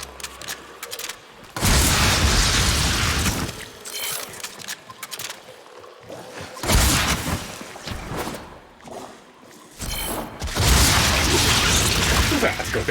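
Heavy weapon fire in Warframe, several loud sustained bursts of shooting and impact blasts alternating with quieter gaps as a hive is destroyed, overlaid with game effects.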